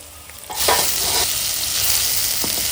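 Meat fries loudly in a pan in a rainy forest setting, a sudden burst of sizzling that settles into a steady, close, dense hiss with a few soft stirring scrapes.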